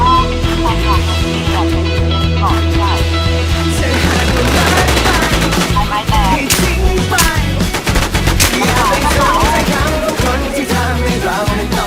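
Dense, rapid machine-gun bursts and gunshots from the SurvivalZ video game fire almost continuously and loudly throughout, layered over a steady music or ambient game bed.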